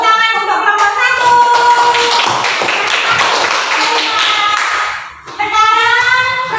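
A classroom of children claps together for a student group in an Indonesian lesson, a burst of rapid, loud, fairly uniform clapping lasting several seconds between stretches of sung or chanted children's voices.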